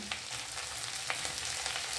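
Onion, capsicum and garlic fry in a pan for chilli paneer, a dense, even sizzle close up with a few faint scrapes and no voices over the crackling.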